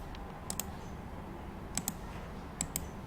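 A computer mouse clicks in pairs, three quick double clicks spaced about a second apart, crisp and close against a quiet room hum.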